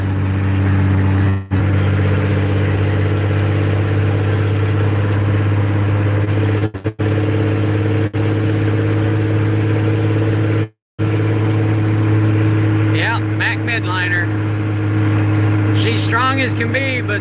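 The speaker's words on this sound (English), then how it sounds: "My Mack dump truck that we're in. I'm hauling this 5500 GMC truck that I got." A Mack dump truck hauling a 5500 GMC truck drones along with a steady low engine hum and road rumble heard from inside the cab, continuous and loud, with brief dropouts and a little background chatter near the end.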